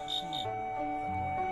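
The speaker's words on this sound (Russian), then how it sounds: "благодаря звуку они переносят звуки дикой природы к вам в дом" Crickets, kept for traditional Chinese cricket fighting, chirp in short repeated bursts, a couple of quick pulses near the start, under a steady tonal background hum with faint voice-like murmur.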